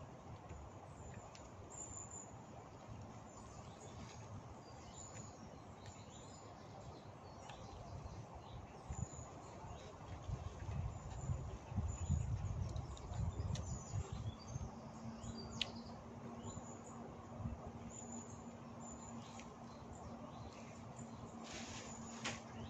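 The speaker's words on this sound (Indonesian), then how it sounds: "Ada burung pau di makam. Dia cari makan dia." A bird calls with faint, scattered chirps at a cemetery in Rijswijk, heard at a distance over steady outdoor background noise with no talking.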